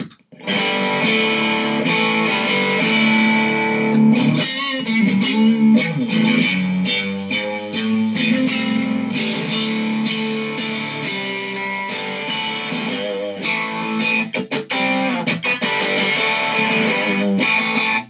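Electric guitar through a Juggy boost pedal set to 12 o'clock, slightly driven and gritty: an extended loud passage of busy riffing and strummed chords, dense and continuous, with no voices.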